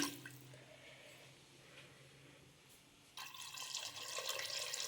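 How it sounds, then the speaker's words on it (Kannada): Water is poured into a pot of mutton sambar, faint at first, then a fuller, louder stream splashing steadily for the last couple of seconds. "ಸಾಂಬಾರಿಗೆ ನಮಗೆ ನೀರು ಎಷ್ಟು ಬೇಕೋ ಒಂದು ಅದಕ್ಕೆ ನೀರು ಹಾಕೊಳ್ತಾ ಇದ್ದೀನಿ"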